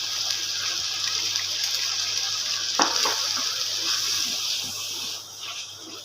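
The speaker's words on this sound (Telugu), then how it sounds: "మసాలాలు కొంచెం ఫ్రై అయ్యాక పెరుగు కూడా వేసుకొని బాగా మిక్స్ చేసుకుందాం." Masala for chicken malai kofta curry sizzles and fries in a pan as curd is stirred in, a steady close hiss with a few scraping stir strokes and soft splatters.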